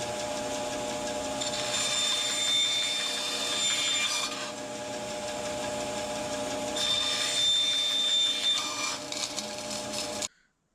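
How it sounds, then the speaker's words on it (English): A bandsaw slices a wooden board into quarter-inch-thick pieces, a steady loud whirring drone with a thin high whine that rises during two separate cuts, then stops abruptly. "So I'm going to cut it 1/4 of an inch thick using my bandsaw."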